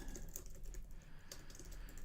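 Quick, quiet clicking of a computer keyboard as code is typed, a steady run of light keystrokes heard close up against faint background hiss.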